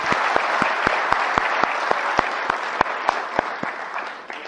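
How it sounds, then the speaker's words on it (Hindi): Audience applauding at the end of a registration training session, a continuous crowd clap with a steady rhythmic clap repeating roughly every quarter second, fading slightly at the end. "एक बार आप लोग अपने लिए ताली कर लो।"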